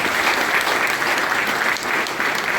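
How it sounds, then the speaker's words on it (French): Steady, dense applause from a large gathered audience at an official July 14 ceremony, continuous clapping filling the whole stretch without pause. "Je vous demande s'il vous plaît de les applaudir chaleureusement"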